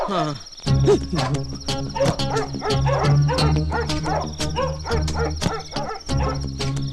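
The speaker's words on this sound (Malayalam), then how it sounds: "അവിടെ എന്താ പട്ടി കുറയ്ക്കണേ?" A dog barks repeatedly at night during a Malayalam film scene, with sharp barks recurring throughout under continuous chirping insects and people talking.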